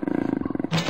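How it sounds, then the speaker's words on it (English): Bobcat roar in a toddler animal puzzle game: a rapid, pulsing growl that rises into a short, loud roar at the end. "Bobcat."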